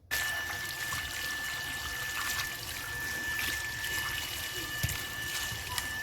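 Water trickles and splashes steadily as a yam (mete alu) is washed clean, a continuous soft running-water sound with faint handling noise, fairly quiet and close.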